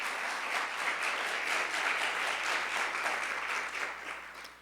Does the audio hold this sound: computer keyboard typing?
no